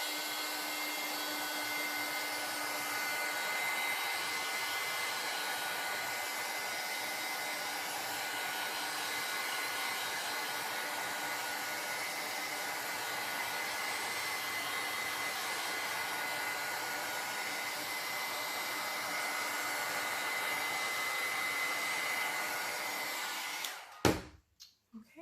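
A hair dryer runs in a steady, even whoosh while drying craft paint, held close and constant for most of the stretch before clicking off with a few handling knocks at the end.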